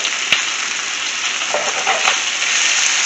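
Lamb ribs fry in a pan over a moderate flame, a steady close hiss of sizzling fat with a few faint pops and crackles and no talk.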